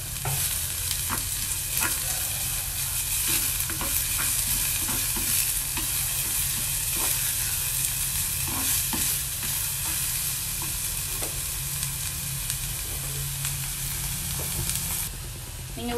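Sliced onions and curry leaves frying in a pan, a dense continuous sizzle with frequent stirring clicks and scrapes, steady and close throughout with no talk.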